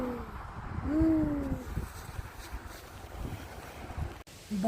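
Strong wind blowing outdoors in the evening, a rushing, gusting rumble across the microphone with a couple of brief chirping tones early on and a short dropout near the end.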